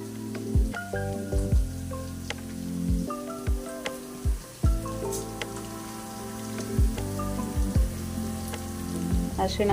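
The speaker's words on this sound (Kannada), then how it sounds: "ಇದನ್ನ ಸ್ವಲ್ಪ ಫ್ರೈ ಮಾಡ್ಕೋಬೇಕು" Kannada-style tempering of spices frying in hot oil in a pan, with a steady crackling sizzle running throughout under voices.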